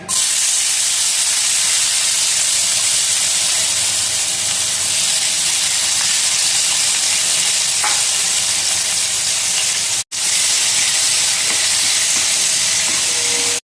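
Chopped onions hit hot oil with a loud, dense, hissing sizzle that stays close and constant for the whole stretch, broken only by a momentary gap. There is no speech.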